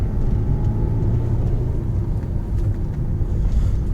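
Peugeot 406 V6 with a replaced exhaust accelerating, a steady low, muffled engine rumble that holds at even loudness throughout with no voices.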